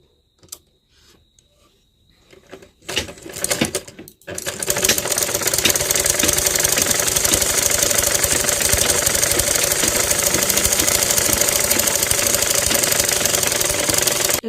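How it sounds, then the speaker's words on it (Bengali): A sewing machine stitches the sleeve fabric of a lehenga blouse. After a few hesitant starts it settles into a loud, steady, close mechanical whir that runs without a break. "এখন আমি এই হাতের কাপড়টা ঠিক সেম ভাবে সেলাই করে নেব।"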